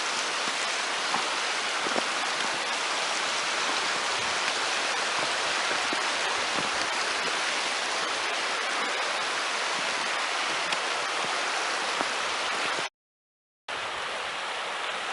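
Steady broadband rush of a river running alongside a road in Moshannon State Forest, constant and close with no voices, briefly cut to silence near the end before the same flowing water resumes.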